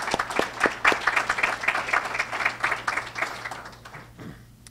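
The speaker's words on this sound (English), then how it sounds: "Give a hand clap for those guys." Audience hand clapping at a TCAT Morristown ceremony: dense, lively applause from a crowd, loud at first and then gradually thinning and fading out near the end.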